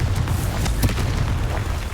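A Confringo blasting spell explodes in Hogwarts Legacy, a dense, booming low rumble that runs steadily for the full two seconds with crackling bursts layered over it, loud and close.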